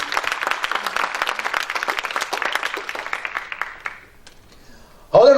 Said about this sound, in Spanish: Y denle un aplauso al Rey de Reyes.